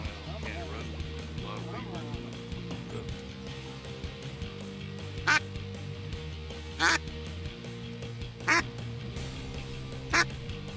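Ducks quack in a Louisiana marsh during a hunt with a dog, several short bright quacks spaced a second or two apart at moderate distance over a low steady hum, with people talking quietly.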